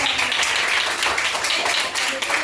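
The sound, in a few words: children clapping in a classroom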